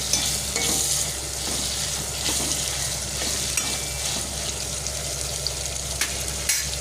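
Masala sautéing in a pan for fish curry, a constant close sizzle with scraping stirs and occasional spatters over a low steady hum.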